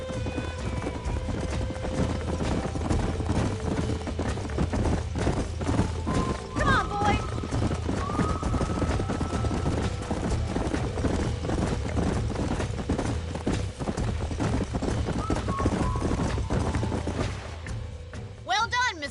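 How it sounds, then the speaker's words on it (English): Horses gallop in the Red Dead Redemption video game, their hooves a rapid, continuous clip-clop at close range, layered with tonal music and effects until it tapers off near the end. "These are fine horses."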